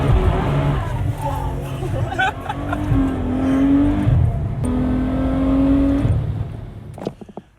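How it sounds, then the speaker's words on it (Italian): Ferrari 812 Superfast with a 12-cylinder engine on the move, heard from inside as a steady, loud engine drone whose pitch climbs through gear changes, with a voice talking over it. "Alla fine facciamo un giro su una 812 super fast, 12 cilindri paura, godiamoci questo giro."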